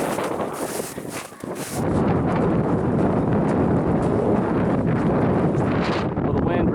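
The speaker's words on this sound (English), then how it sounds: "the wind really isn't slowing down" Strong, relentless wind buffets the microphone on a mountain hiking trail in Iceland, a loud, continuous roar that dips briefly and then holds steady throughout.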